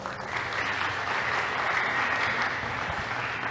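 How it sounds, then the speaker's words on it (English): An audience at a school English debate claps for the debaters in a steady, even round of applause from a medium-sized crowd, sustained throughout with little variation. "Now, please give them a round of applause."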